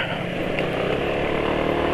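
A motorcycle engine running in a steady, loud idle with a rough, buzzing rumble, heard close up as the bike waits for an oil change, with no talk.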